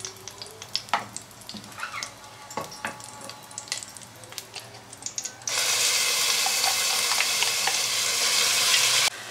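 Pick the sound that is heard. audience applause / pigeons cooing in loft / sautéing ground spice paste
sautéing ground spice paste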